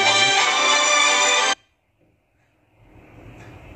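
A mobile phone ringtone plays loud and close as a bright repeating tune, then cuts off abruptly after about a second and a half, leaving quiet room noise.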